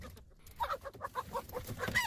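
A chicken clucks as a sound effect in a Korean radio drama of the story Dongbaekkkot: a quick series of close, repeated clucks, growing busier toward the end, with no talk over them.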